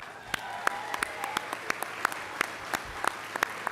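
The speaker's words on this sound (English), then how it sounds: "Please join me in giving everybody a round of applause." Applause for sponsors at the 73rd annual First Citizen Awards banquet: thin, scattered clapping from a modest audience, with distinct individual hand claps standing out over a quiet room.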